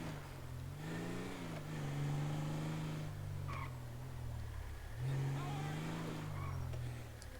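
A car engine in the video game GTA 5 hums low and steady, its pitch rising and falling as the car is driven and parked by a pier, heard close throughout with no speech.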